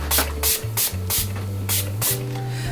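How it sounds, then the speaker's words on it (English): Bursts of makeup finishing spray from a pump mister hiss out in about seven short, close, loud puffs, with a low hum underneath. "this one is the makeup finishing spray for bride"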